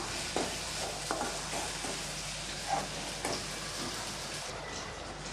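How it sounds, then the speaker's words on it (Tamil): Okra sizzling steadily in a pan with a hiss while a utensil stirs and scrapes a few times, nearby and fairly loud. "இப்போ நம்ம வதக்கி வச்ச வெண்டைக்காவை சேர்த்துக்கலாம் சேர்த்து நல்லா கலந்து விட்றலாம்"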